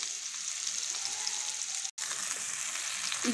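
Oil and spice mix poured into a pan of instant achaar pickle, giving a steady bright sizzle of frying that holds evenly throughout, broken by one brief dropout near the middle.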